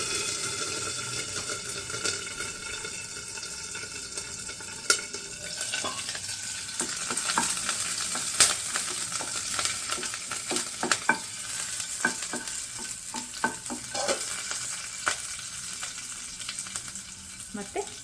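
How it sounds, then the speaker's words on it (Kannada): Mustard seeds, curry leaves and green chillies sizzle in hot oil for curd rice tempering, a steady crackling hiss dotted with many sharp spluttering pops over a long stretch, and no voices. "ಇವಾಗ ಕರಿಬೇವು ಮತ್ತು ಹಸಿಮೆಣಸಿನ್ಕಾಯಿ ಹಾಕ್ಕೊತಾ ಇದ್ದೀನಿ"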